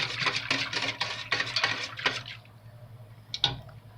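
Pumpkin pie moonshine mixture being stirred in a pot, with a run of quick clinking, scraping strokes that comes close and fairly loud, then a quieter stretch and one last sharp clink near the end.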